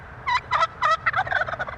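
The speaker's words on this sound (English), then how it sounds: "Gobbling away on campus and on cars. These wild turkeys might be on your hood" Wild turkeys gobble on a campus in northern Utah, a loud close series of rapid warbling gobbles, three strong bursts followed by quicker overlapping calls.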